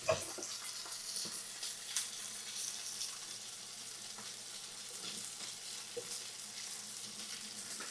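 A pan of pasta sauce with cream and egg simmers over low heat while a utensil stirs steadily through it, a soft continuous sizzle with faint scraping and occasional small clinks.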